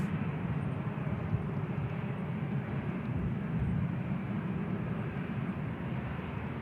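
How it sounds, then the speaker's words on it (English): Steady broadband roar of an aircraft at Manchester Airport, a Ryanair jet inbound from Lisbon on final approach, holding a constant distant rumble throughout with no voices. "Aircraft's just on finals now."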